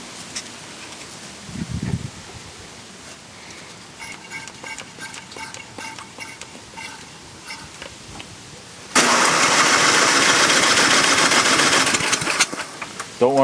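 John Deere 1026 tractor engine cranking on its starter in a cold start, a long whirring crank that grows loud and steady for several seconds without catching, after quieter rustling and a voice.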